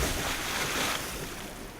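Steady rushing water ambience from a river area in the dungeon game Legend of Grimrock 2, a continuous broadband wash with low wind-like rumble, fairly quiet and even, with no voices over it.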